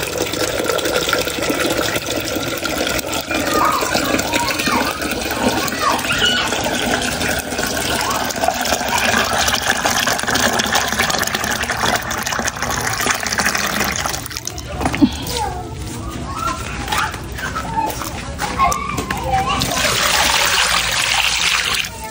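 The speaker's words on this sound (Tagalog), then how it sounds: "Ako pa'y kumukuha lang ng tubig dito po kala Tita Huya ng panglinis po dun sa isda." Water runs steadily from a tap into a container while fetching water to clean fish at a relative's home, a continuous splashing trickle that shifts in tone as the vessel fills, with voices in the background.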